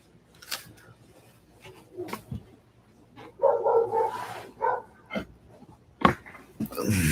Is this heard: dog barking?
yes